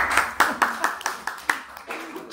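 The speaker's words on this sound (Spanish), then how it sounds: "Un aplauso para el hombre." A class gives a student a short burst of clapping in a Spanish-language lecture on esophageal atresia, with about a dozen distinct, fairly close claps that taper off.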